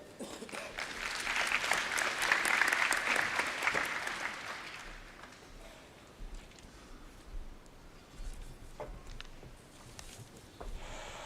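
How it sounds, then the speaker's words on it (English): A graduation ceremony crowd applauds steadily, the clapping swelling for a few seconds and then fading into scattered claps and room noise. "let's give Professor Ntiso a round of applause as we welcome him."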